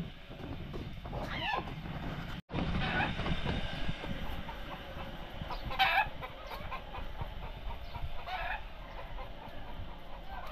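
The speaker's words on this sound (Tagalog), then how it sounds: "may napakan pa akong sisiw" Chicks and chickens cluck and peep close by over a constant rumbling background, with a few sharper calls and one brief knock.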